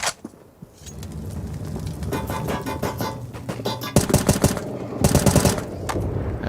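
Rapid gunfire through walls during a Counter-Strike match on the Overpass map, with bursts of sharp cracks starting sparse, then rattling in dense volleys, loud and close, with no voices.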